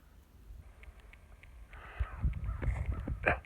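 Faint crows cawing in the distance over a low outdoor pasture background on a thawing winter day, with a few short calls building toward the end.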